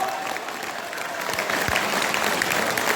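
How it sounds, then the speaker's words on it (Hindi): Audience applause at a live Hindi poetry recitation at the Swadeshi fair in Surajgarh: steady, dense clapping from a crowd that holds for about three seconds with no voice on top. "ताली जरा ढंग से बजा, फिर मुझे मजा नहीं आ रहा।"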